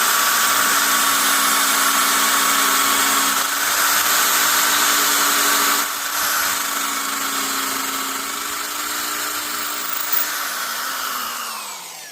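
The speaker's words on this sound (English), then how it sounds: "I'm just drilling these at an angle, trying to picture where the dovetail shape would be" A drill bores angled holes into the neck joint of a 1985 Alvarez Yairi DY76 acoustic guitar, a continuous high motor whine that dips slightly midway and winds down at the end.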